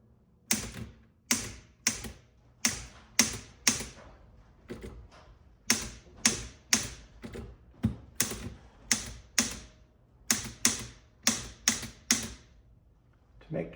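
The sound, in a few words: typing on an Underwood Rhythm Touch typewriter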